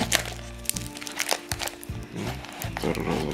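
Taped parcel packaging holding Soviet-era watches is torn open, with sharp cracks, crinkles and rustling bursts repeating close by. A voice is briefly heard between them.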